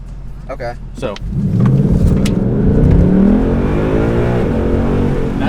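A car is held on the brake while the engine revs hard toward 2,000 rpm for a launch, its rising drone loud and close, with brief talk at the start.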